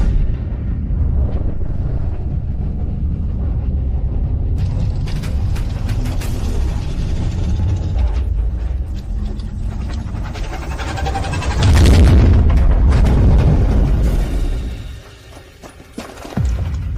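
A sustained roaring blast builds and swells into a massive crashing explosion, with heavy rumbling and debris-like crackle before tapering off near the end.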